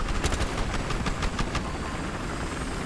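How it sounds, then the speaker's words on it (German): An attack helicopter in the shooter game Battlefield Hardline drones over a wash of engine noise, with a burst of rapid gunfire in the first second and a half; no talking. "Wir haben einen Kampfheli!"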